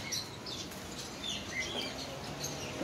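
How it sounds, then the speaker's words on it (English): Several fowls and small birds call in scattered short chirps and squawks, mostly faint and somewhat distant, over a steady background hum. "Some kind of fowls."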